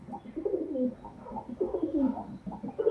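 Pigeons cooing at close range, repeated soft rolling coos in overlapping phrases throughout, with no voices.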